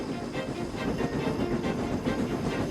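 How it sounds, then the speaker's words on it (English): A steam locomotive chugs steadily with rhythmic puffing and rumbling, a continuous mechanical train sound at moderate distance. "Soon they heard an unfamiliar puffing sound."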